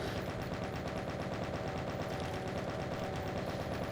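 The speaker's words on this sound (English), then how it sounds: "so I've got a plasma gun now" Rapid, continuous plasma gun fire from the video game Doom plays steadily throughout, a dense stream of repeated bursts with no talking over it.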